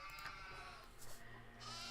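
A sheep in the Nancy Drew game Haunting of Castle Malloy bleats in a wavering, nasal tone over steady soft background game music, faint and continuous throughout.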